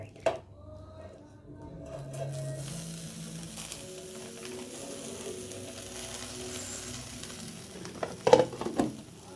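Kochur loti paturi fries quietly in a covered pan, a soft sizzle running under a person talking, with a few clattering knocks near the end as the packets are flipped.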